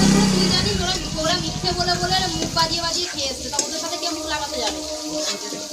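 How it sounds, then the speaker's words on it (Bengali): Fritters being lifted out of hot frying oil at an outdoor picnic cookout, a steady loud sizzle and clatter filling the clip, with voices talking over it. "ভাজাগুলো এবারে তুলে নেওয়া হচ্ছে দেখুন"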